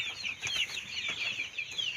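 Young Thai native chickens about one to two months old, kept at a farm, clucking and peeping continuously in a busy overlapping chorus, fairly close with no talk.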